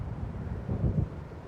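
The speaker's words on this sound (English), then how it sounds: "It seems there's a storm coming." Low rumbling wind with a swell of distant thunder-like roar in the video game Alan Wake Remastered as a storm approaches; a steady, moderately faint low drone builds briefly in the middle before settling.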